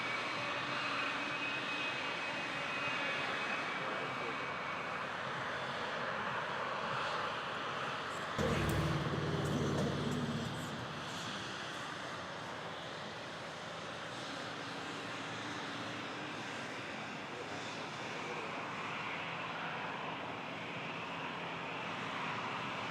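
A Boeing 777 jet airliner at Toronto airport produces a steady, distant engine roar with a brief louder burst partway through, then settles into a continuous rumbling wash.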